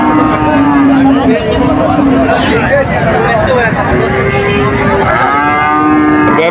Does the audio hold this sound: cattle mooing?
yes